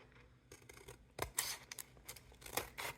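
Scissors trim excess paper from Dollar Tree gift bags for a mini album, several quiet close snips and crisp cutting bursts in a hushed room.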